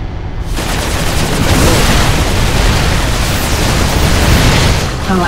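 Dense, sustained gunfire and explosions from a battle in the video game StarCraft 2 form a loud, continuous wall of noise that starts abruptly and carries on without a break.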